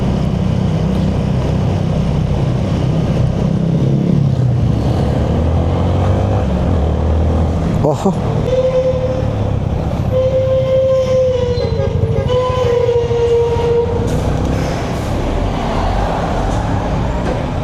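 Heavy road traffic in a congested jam: a continuous, loud rumble of engines and tyres with no pauses, and a few brief tonal whines rising over the noise partway through.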